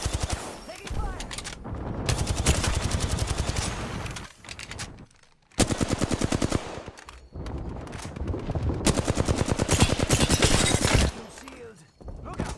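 Intense automatic gunfire in Apex Legends, long rapid bursts from several weapons with short pauses between volleys, with a voice speaking at points under the shooting.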